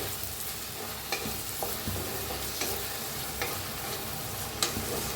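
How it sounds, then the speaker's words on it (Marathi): Finely chopped tomatoes sizzle with onions in a hot pan while being cooked down for a spicy dahi bhindi curry, a steady close frying hiss broken by occasional scrapes and stirs of the spoon. "टाकूया टमाटो, टमाटो बी चॉपरनं बारीक असं करून घेतले बघा। 2 टमाटो घेतले होते, त्याला बी छान असं भाजून घेऊया।"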